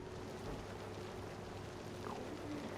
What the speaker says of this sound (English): Yeah, it is raining.